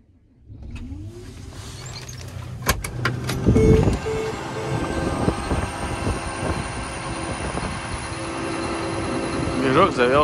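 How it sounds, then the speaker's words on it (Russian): A John Deere S670 combine harvester engine starting: starter cranking, then the diesel catches and rises to a steady loud running roar with a whining tone, close by and without talk. "Движок завелся четко."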